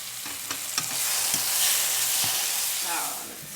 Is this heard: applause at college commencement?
no